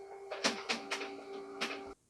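An office printer running alone, a steady mechanical hum broken by four or five sharp rhythmic clacks of paper feeding, then stopping abruptly.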